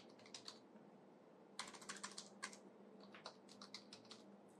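Fingers typing on a computer keyboard, entering a query into a chatbot, with quick bursts of close, soft key clicks separated by short pauses, quiet and alone.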